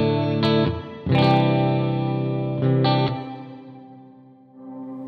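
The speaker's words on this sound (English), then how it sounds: "We're Hall Reverb. We're going to turn the blend into the middle, so we're not just completely into the reverb." Sustained electric guitar chords through a Keeley Caverns pedal set to hall reverb with the blend at halfway. Each chord rings loud and full, then a long reverberant tail fades out slowly with no talking.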